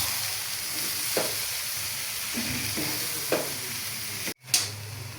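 Vegetables for samosa filling stirred and fried in a pan, a continuous close sizzle with a few soft scraping stirs and a brief clatter near the end.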